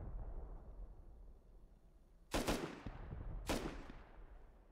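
Two sharp gunshots from the survival video game Rust ring out about a second apart, each a loud crack with a short decaying tail over a low ambient hum.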